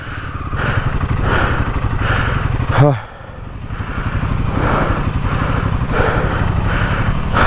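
A Royal Enfield Himalayan 450 motorcycle engine chugs and revs unevenly while off-roading on unpaved terrain, briefly surging then dropping, with people talking over the rumble.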